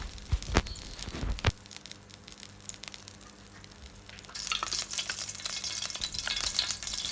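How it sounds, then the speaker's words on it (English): Butter sizzling in a hot pan, a few sharp clunks at the start, then a faint crackle that swells into a steadier, brighter sizzle toward the end. "Add the butter into a pan."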